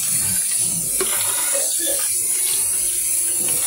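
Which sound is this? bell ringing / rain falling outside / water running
water running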